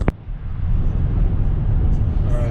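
A van rolls downhill and across a bridge, its steady low road rumble and engine drone continuous and fairly loud from inside the cabin, with a brief knock at the start.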